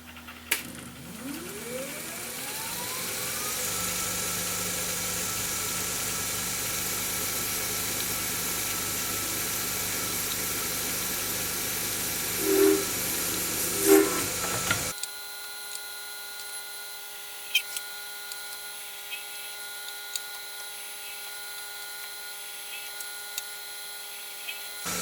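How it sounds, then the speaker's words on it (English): Drilling centre drill marks into a wooden clock part, a machine's steady whirring drone with a rising spin-up at the start, a few brief louder bites into the wood, then a quieter stretch with sparse ticks and clicks. "So I'll just quickly drill the centre drill marks, and then I'll go around and drill through with a longer drill."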